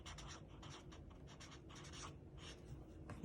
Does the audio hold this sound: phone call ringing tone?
no